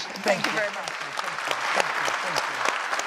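Audience applause for a speaker at a talk on soil, soul and society, steady dense clapping throughout, with a voice speaking briefly over it.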